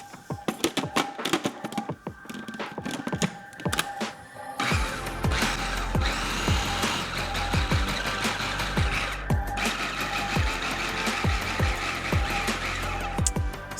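A food processor pulses garlic powder, paprika and olive oil in a loud, steady whir that starts after a few seconds of short clattering bursts and keeps going without talk.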